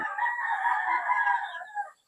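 A single long rooster crow rings out loud and close, drawn out for about two seconds with no talking.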